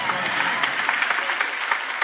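Church congregation applauding during a sermon: steady, dense clapping from a large crowd throughout, fairly loud and close, with no talk over it.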